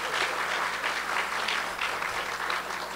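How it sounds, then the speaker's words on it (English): Steady crowd applause fills an art museum exhibition opening honoring painter Percy Ricks, a dense, even wash of many hands clapping together without a break for about three seconds. "please, a big round of applause for Margaret Winslow"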